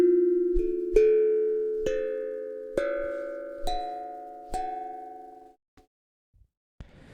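Six struck notes on a tank drum made from a gas bottle climb upward one by one at an even pace, each ringing and decaying softly, followed by quiet taps and a faint rustle.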